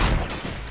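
Distant gunfire from an enemy squad in the Fortnite video game rumbles as a brief, dense burst of muffled shots.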